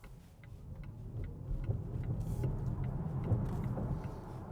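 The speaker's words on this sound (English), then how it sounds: "The twin motors definitely get it going." A Volvo C40 twin-motor electric car accelerates hard, giving a steady, swelling rumble of road and wind noise with no engine note and no talking.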